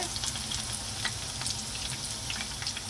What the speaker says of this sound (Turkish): Kabaklarımızı güzelce kızarttım.